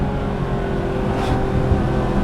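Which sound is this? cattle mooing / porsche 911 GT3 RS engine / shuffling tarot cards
porsche 911 GT3 RS engine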